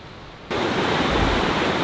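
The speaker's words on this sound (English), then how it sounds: "Hearing the surf." Pacific Ocean surf on a beach: a broad, steady rush of breaking waves that swells suddenly louder after a half-second and then roars on continuously.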